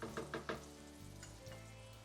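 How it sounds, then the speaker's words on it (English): About two tablespoons of olive oil go into a hot pan and sizzle steadily, with a few quick clinks of stirring at the start before the low, even frying hiss carries on alone. The dish is shrimp scampi with orzo. "I'm gonna add about 2 tablespoons of olive oil."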